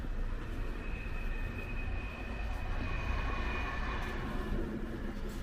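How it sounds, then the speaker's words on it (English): A train passes along a line in a Manchester neighbourhood, heard as a steady, broad rumble with a faint high whine, moderately distant and sustained, with no talking. "There goes your train"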